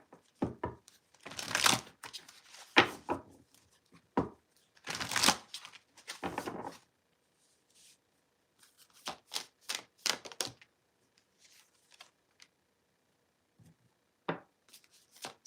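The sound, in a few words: shuffling oracle cards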